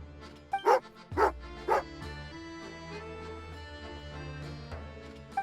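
A dog in the Genshin Impact video game gives three quick close barks in a row, followed by a softer whimper and a low sustained musical backdrop.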